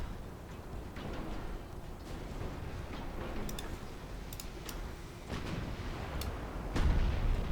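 Naval guns firing in a 1900s-era French naval campaign strategy game, distant muffled booms and sharp cracks scattered over a dense rumbling battle background, with a louder blast near the end.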